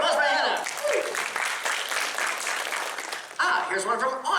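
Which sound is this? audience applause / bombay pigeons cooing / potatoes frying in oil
audience applause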